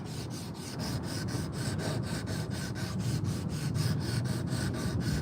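A high-powered sander working a carved wooden spoon, a steady close abrasive rubbing with a fast regular pulsing rhythm, fairly quiet and alone without talk.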